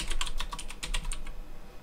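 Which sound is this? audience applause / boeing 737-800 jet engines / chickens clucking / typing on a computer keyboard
typing on a computer keyboard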